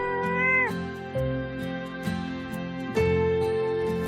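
Cats meow repeatedly on Ainoshima, a Japanese cat island where fishermen feed them unsellable catch; several drawn-out, rising and falling calls come close and clear, one after another with short gaps, over faint background sounds.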